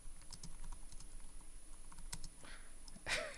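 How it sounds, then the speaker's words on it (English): Fast, uneven clicks of typing on a computer keyboard, close and fairly quiet, with a brief louder clatter near the end and no talk over it. "I'm typing so badly."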